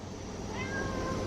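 A house cat meows once at close range, a short rising call standing out over a steady low indoor hum.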